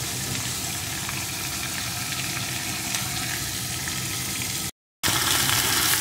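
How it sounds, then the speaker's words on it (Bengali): Washed, cut Malabar spinach (pui shak) drops into a pan of frying vegetables, keeping up a loud, continuous sizzle that cuts out briefly for a moment and then returns just as strong. "এখন কেটে ধুয়ে রাখা পুঁই শাকের টুকরোগুলো এর ভিতরে দিয়ে দেব।"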